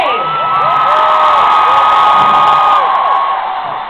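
At a concert, a large crowd screams and cheers loudly, a sustained high wall of shrieks and whoops that swells and holds for several seconds.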